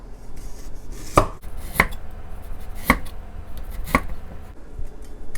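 A knife cuts through orange peel on a cutting board in four distinct, evenly spaced chops, each a sharp thud against the board, close and clear with quiet pauses between.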